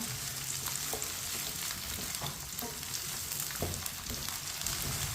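Okra sizzling and frying in a hot pan over high heat, a spoon stirring through it with soft scrapes, steady close crackle throughout without any talking.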